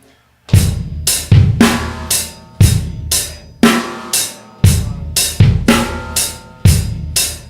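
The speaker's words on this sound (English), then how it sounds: "Now I'm also going to add a bass drum on 3." Steady drum kit groove with a snare backbeat and a bass drum added on beat three, loud, close and evenly repeating over several bars, with no talking.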